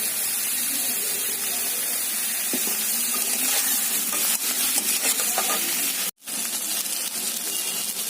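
Brinjal, green chili and onion fry loudly in oil in a pan, a constant close sizzle broken by occasional scraping stirs, with a momentary dropout before the frying continues.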